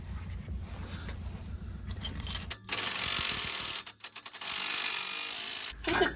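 A wrench works a stubborn bolt loose on a Land Rover camper. Close metallic ratcheting and grinding comes in bursts with short pauses, and sharp clanks and scraping mark the bolt giving way, with no talking.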